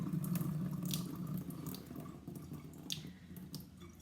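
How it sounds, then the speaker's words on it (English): Water running and splashing in a sink as cooked farro drains in a colander, a steady close trickle with a few drips that eases slightly toward the end. "now we'll just let it drain for a minute or two."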